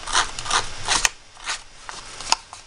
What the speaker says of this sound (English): so I'm going to use my sanding block